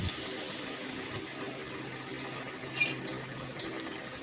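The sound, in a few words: water being poured into a cooking pot with chicken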